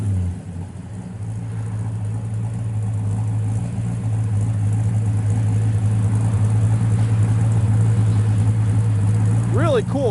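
A 1964 Pontiac Tempest with a 428 engine and stainless exhaust and mufflers idles in a close, loud, steady low rumble. The engine revs briefly near the end, and a voice is faintly present.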